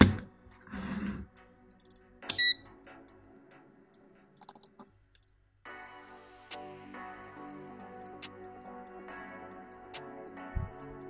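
Sharp, irregular clicks from a faulty industrial switch-mode power supply tick away over a low electrical hum, some isolated and some in quick clusters, close and fairly quiet.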